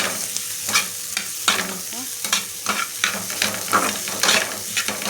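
Potato filling stir-fried in a pan with turmeric and salt, a steady sizzle broken by repeated scraping strokes of a spatula stirring the mixture, close and fairly loud throughout.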